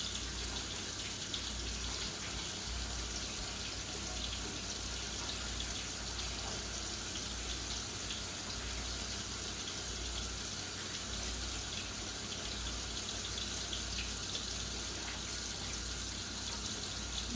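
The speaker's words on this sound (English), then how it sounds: "Let me wash my hands really quick" Tap water running steadily into a sink as hands are washed in a kitchen, a soft, continuous splashing hiss with no pauses.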